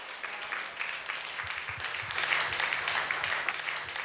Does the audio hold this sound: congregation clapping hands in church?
yes